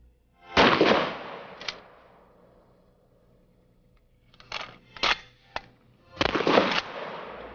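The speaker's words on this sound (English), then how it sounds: "Now let's look at the firing characteristics of these conventional rounds." Shotgun firing conventional rounds such as number 9 birdshot: three loud separate blasts with ragged tails, the last two groups made of sharp overlapping reports, with quiet stretches between.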